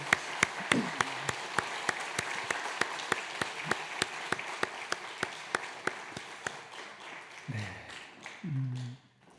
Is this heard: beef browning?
no